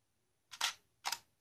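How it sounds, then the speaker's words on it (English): A Canon T2i-series DSLR fitted with a Zeikos vertical battery grip fires its shutter twice, each a sharp close mechanical click-clack about half a second apart in a quiet room. "you should still hear the shutter go off"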